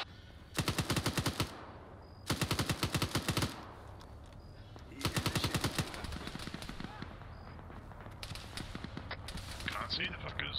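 Automatic gunfire in the video game Operation Sighthound during convoy duty comes as four loud, rapid bursts, each lasting about a second, with quieter ambient game noise between them.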